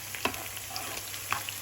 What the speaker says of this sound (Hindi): तो अब इसमें लगेगा तड़का।